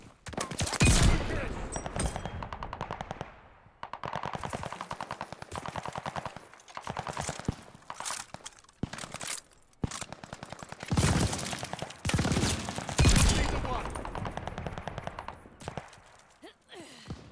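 Call of Duty Vanguard gunfire with explosive rounds, a sniper weapon on the Paradise map, in loud sharp bursts of shots and rapid volleys separated by brief gaps, with game noise between.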